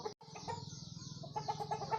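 Sonali breed chickens and roosters clucking on a farm, a steady run of close, overlapping clucks and soft calls with a brief pause near the start.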